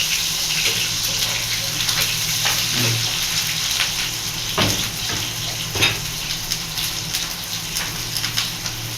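Garlic and onions fry in a pan for lamb kalderita, a steady close sizzle with faint crackles and a few soft stirring knocks, no voices.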